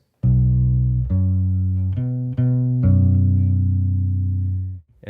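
A bass guitar plucks a short fingerstyle line, a handful of deep, ringing notes, clean and alone, each sustaining before the next.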